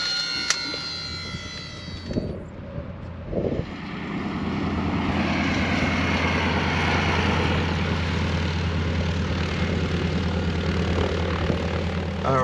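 A twin-engine Cessna 310 at Republic Airport in Farmingdale drones steadily after a few clicks and thumps, its engine hum rising to a loud, continuous roar heard from inside the cabin.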